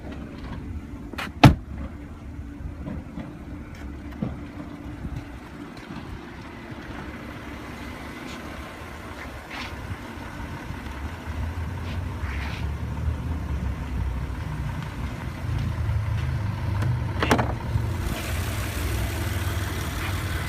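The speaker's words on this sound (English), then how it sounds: "Under the hood is a 3-liter TFSI supercharged V6 engine with 8-speed Tiptronic transmission" A 3.0-litre TFSI supercharged V6 in a 2016 Audi A7 idles steadily with a low, even hum, a few sharp clicks or knocks near the start, and the engine note growing slightly louder toward the end.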